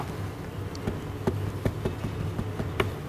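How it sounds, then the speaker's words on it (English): A phone is tapped under a desk in a high school, giving a run of faint, irregular soft taps and clicks over a quiet background hum. "It's the sound of a phone being tapped under a desk."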